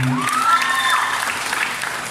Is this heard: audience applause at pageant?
yes